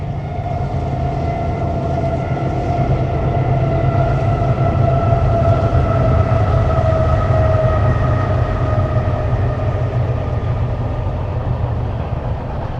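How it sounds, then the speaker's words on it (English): A BNSF intermodal freight train with mid-train DPUs passes close and loud, its horn sounding a long sustained multi-tone blast over the steady rumble of the cars. "this intermodal train was equipped with 3 mid-train DPUs, 2 BNSF, 1 Norfolk Southern"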